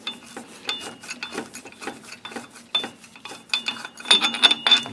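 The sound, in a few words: loosening a bolt on an Intek V-twin engine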